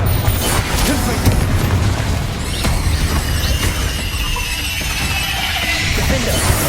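Spell blasts and explosive impacts from combat in the video game Hogwarts Legacy, a dense, loud run of booms, crashes and magical whooshes layered over a constant rumbling score, with no pause throughout.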